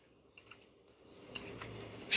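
Someone types a git command on a computer keyboard: a few scattered keystrokes, a short pause, then a quicker run of crisp close clicks ending in a louder tap.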